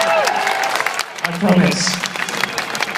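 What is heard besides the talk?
crowd applauding and cheering at Silverstone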